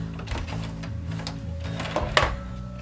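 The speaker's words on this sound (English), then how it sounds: "I'm just going to sew up, and for a little extra security, through it again" A sewing machine stitches a seam on a Smart Doll garment, giving a close, steady motor whir with rapid needle ticking that falters briefly near the end.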